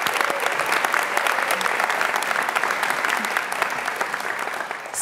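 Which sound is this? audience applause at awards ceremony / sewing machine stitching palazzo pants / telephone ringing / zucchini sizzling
audience applause at awards ceremony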